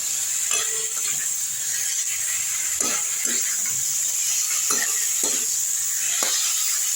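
Cumin and coriander masala frying in a pan, a constant bright sizzle and steam hiss with several distinct spoon scrapes and taps as the spices are stirred, close and fairly loud.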